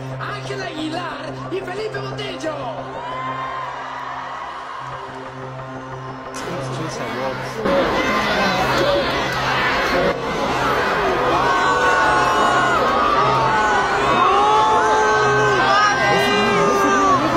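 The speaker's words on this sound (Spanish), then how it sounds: "varios videos del momento exacto en el que Ángela Aguilar es abucheada por los asistentes" A large audience at an awards ceremony erupts in loud, sustained crowd noise of booing, shouts and cheers, swelling partway through and staying dense to the end, with music playing underneath.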